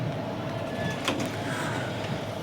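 Tebhaga Express 13161, running Kolkata to Balurghat, pulling into platform 5 at Kolkata station with a steady low rumble, faint metallic squeals and a brief clank partway through.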